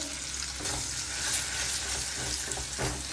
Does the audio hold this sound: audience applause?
no